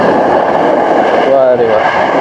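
A train passes in Japan, a steady loud rumble of rail noise with a brief squeal of wheels partway through, heard from nearby, likely from a delivery rider on the street.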